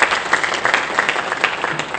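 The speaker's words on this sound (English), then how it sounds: "Let's give the Lord a hand clap of praise in this house this morning." A church congregation claps hands in praise at a Sunday morning worship service, loud dense applause from many people that carries on steadily throughout.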